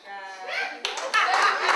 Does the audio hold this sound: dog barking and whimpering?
no